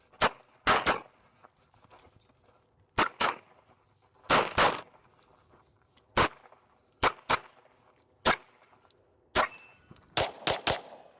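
A Sig P211 pistol fires at a PCSL multi-gun match: sharp, loud shots come in quick pairs and short strings, separated by brief quiet pauses.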